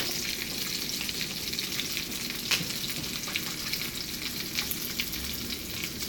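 Atlantic salmon fillet frying in a hot pan, a constant dense crackling sizzle close by with a brief clatter as the fish is turned, no voices.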